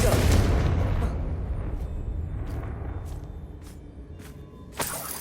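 A Confringo blasting fire spell goes off in the video game Hogwarts Legacy, a loud low boom at the start that rumbles and fades, followed by a few brief crackling pops and another sharp burst near the end.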